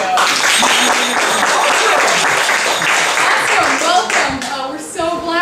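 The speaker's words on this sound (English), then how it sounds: "Clap your hands if this is your very first That Racket show." A crowd at an improv holiday pageant claps loudly in a sustained burst of applause, thinning out toward the end as a voice begins speaking over the last scattered claps.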